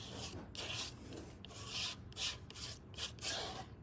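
A palette knife spreads a thick, even layer of paint in quick, repeated strokes, each a soft, close scraping rasp separated by short pauses, quiet and with no voices.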